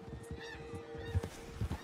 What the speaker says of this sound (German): Ein Truthahn.